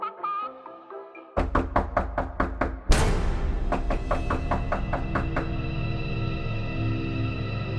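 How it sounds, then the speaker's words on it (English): A run of sharp, evenly spaced knocks on a door rings out loud and close, followed by a heavier thud and lingering resonant tones. "And then I hear a knock on the door."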